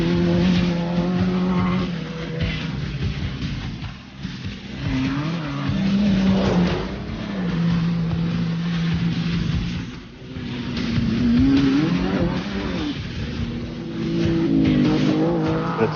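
Cars racing on dirt outback circuits built from old tracks near Alice Springs, engines rising and falling through gear changes with tire squeal and skidding, several passes sweeping close then fading.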